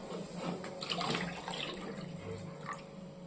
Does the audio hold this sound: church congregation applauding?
no